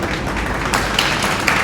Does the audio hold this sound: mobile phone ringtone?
no